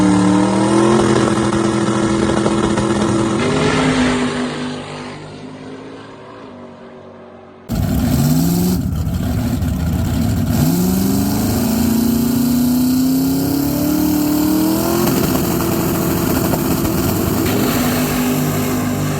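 A Chevy Nova makes a no prep drag race pass at a team race event, its loud engine roaring and dropping away, then a sharp cut to another steady, loud engine roar that climbs in pitch through the run.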